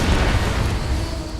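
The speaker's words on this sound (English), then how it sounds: "there's an explosion behind it" A loud, dense blast from an explosion in the video game The Saboteur, a continuous low rumbling roar that fills the whole short clip.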